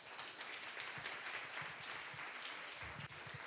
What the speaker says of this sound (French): Une bonne main d'applaudissements, s'il vous plaît.